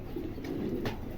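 Red-checkered pigeons coo softly and close by in a low, throaty murmur over a short moment, with faint background noise.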